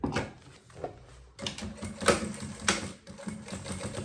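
A sewing machine stitches a banana bag in short bursts of rapid mechanical clatter, stopping briefly and then running again, close and moderately loud.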